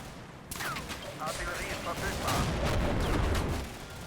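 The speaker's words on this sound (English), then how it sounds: "accurate British rifle and machine gun fire is taking its toll" British rifle and machine gun fire in the WWII tactics game Combat Mission: Normandy rolls on as a dense, continuous crackle of overlapping shots and bursts, loud and sustained across the whole stretch.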